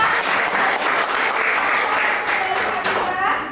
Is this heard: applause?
yes